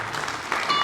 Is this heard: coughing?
no